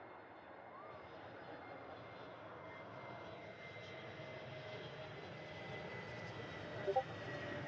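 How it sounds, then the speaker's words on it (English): A Jetstar Airbus A321neo arrives at an airport, heard as a faint, distant, steady jet engine rumble that slowly swells, with soft background noise. "It's the 321 Neo heading in today."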